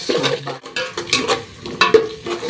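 Onions being gently fried in a pan while a spoon stirs them, giving a close, loud mix of soft sizzle and repeated scraping and clatter against the pan, no talking.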